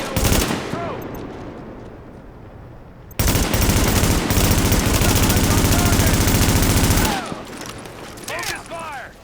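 Automatic weapons firing in a firefight in Tom Clancy's The Division, sustained loud machine-gun bursts with a dense three-second barrage in the middle, shell-casing pings and shouted voices around the shooting.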